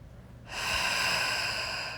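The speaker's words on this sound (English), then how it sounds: "So taking some really long, deep, luxurious breaths here," Long, deep breath drawn during a bedtime yoga session, a soft airy rush that begins after a quiet half second and holds steady and close to the end.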